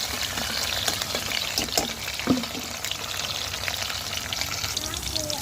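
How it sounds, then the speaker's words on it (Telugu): Onions and green chillies frying in a pan, a steady, close sizzle with light stirring scrapes running continuously, with faint voices in the background. "ఉల్లిపాయ పచ్చిమిర్చి బాగా వేగేంత వరకు వేయించేసుకున్నాము"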